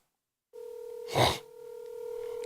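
A steady telephone tone sounds as a call is placed, starting abruptly after half a second of silence, with a short breathy burst on top before the tone carries on evenly.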